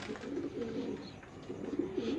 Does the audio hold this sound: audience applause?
no